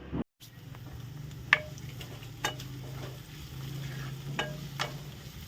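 Onion frying in a pan while paneer bhurji is made in a home kitchen: a soft, close sizzle with a faint low hum under it and a few sharp clicks from the spoon against the pan, quiet and without talking.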